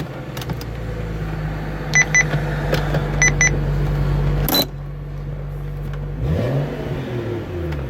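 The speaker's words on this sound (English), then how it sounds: "We're gonna go ahead and start the car up." A BMW 135i with an MHD tune starts up: a steady idling engine drone with a few sharp high chirps, a brief loud burst, then the engine note dips and settles back into a low idle.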